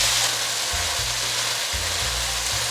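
Mushrooms, cabbage and glass noodles sizzle in a hot pan with a bright, steady hiss, broken by low scraping thumps as the spatula tosses them in a loose rhythm.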